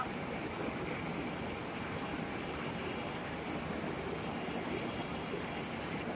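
Steady low rumble and broadband noise of the Darjeeling Mail train (12343) at Sealdah station, about to depart, continuous and unchanging throughout, with no voices.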